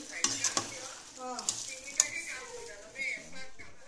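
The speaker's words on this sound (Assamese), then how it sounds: "এইফালে মাংস ফ্ৰাই কৰি আছোঁ" Meat frying in a pan for a gravy dish, with a steady sizzle under repeated spoon scrapes and clinks against the pan, and faint voices in the background.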